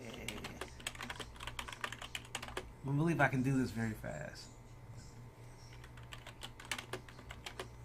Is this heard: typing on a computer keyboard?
yes